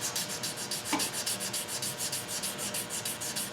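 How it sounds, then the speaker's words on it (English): Rhythmic sanding of an acrylic pen blank by hand with the lathe stopped, long even strokes repeating about five times a second, close and fairly quiet. "then I long sand it with the lathe off,"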